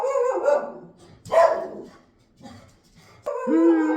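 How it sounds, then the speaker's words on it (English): A dog barks indoors in a kitchen, giving several loud, separate barks and whimpering yips with short gaps between them. "I'm never going to get this recorded because my dog keeps barking."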